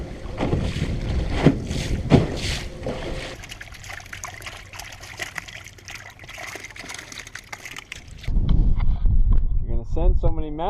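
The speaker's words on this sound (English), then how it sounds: "Look at these waves." Wind-driven waves slap against a small fishing boat on a choppy lake, with gusty wind buffeting the microphone and people talking over the water noise throughout.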